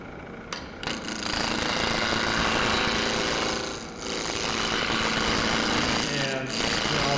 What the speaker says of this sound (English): this is a giant spindle roughing gouge for rounding the